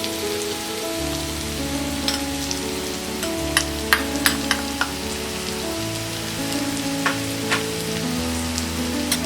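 Ivy gourd stir-frying with a roasted peanut, red chili powder and dry coconut mix, a steady sizzle with scattered sharp clinks of a spatula against the pan, over a sustained low hum.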